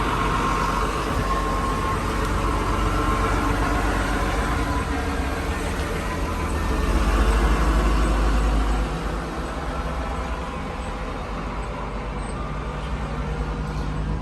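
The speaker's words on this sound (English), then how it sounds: "What is that? Is that a truck?" A FedEx delivery truck passes outside with a broad, continuous engine rumble that swells in the middle and then fades, heard under steady background noise.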